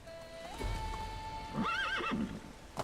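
A horse in the Medieval Dynasty video game gives one clear, close whinny that rises and wavers before fading, with a soft hoof thud at the end over low background hum.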